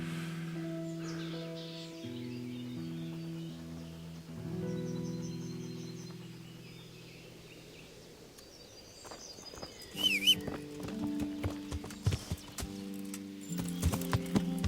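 Horse hooves clip-clop at a steady pace under simple melodic game music, with a few brief chirps and clicks, from the video game Kingdom Come: Deliverance on Xbox.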